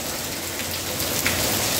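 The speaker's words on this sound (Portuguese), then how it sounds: "chegou a chuva aqui no sertão do Piauí" Steady rain falls in the sertão backlands of Piauí, a dense, even hiss of drops on surfaces that holds at a constant level throughout, with no voices.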